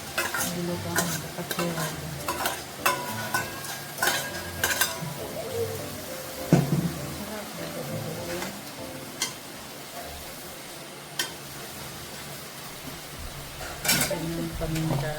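Vegetables stir-fry in a pan for pansit canton, an ongoing sizzle broken by repeated sharp scrapes and clacks of a utensil against the pan, with a brief spoken remark over it.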